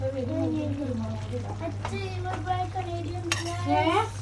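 Metal utensil scraping and clinking against a pot while food is stirred in a home kitchen, light clatter running under steady conversation between voices.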